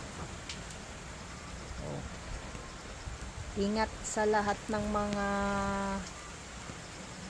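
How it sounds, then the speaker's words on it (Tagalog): Heavy rain with wind falls around a hut, a steady broadband hiss that runs through the whole stretch while a person speaks over it toward the end. "Masyadong maulan, mahangin din."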